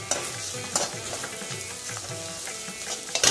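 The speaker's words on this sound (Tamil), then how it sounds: "இது கொஞ்சம் நல்லா ஆனியன் வந்து கொஞ்சம் ஒரு மாதிரி நல்லா ஃப்ரை ஆகட்டும்." Onions frying in a pan for cabbage fried rice sizzle steadily up close, with the scrape and clatter of stirring breaking through the hiss at irregular moments.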